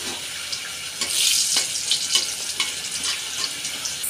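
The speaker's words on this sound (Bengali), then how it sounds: "তেল গরম হয়ে গেছে, আমি প্রথমে কয়েকটা শুকনো লঙ্কা ভেজে নেব" Dried red chillies crackle in hot oil, a close, steady sizzling hiss that swells briefly, with small pops and stirring scrapes and no voices.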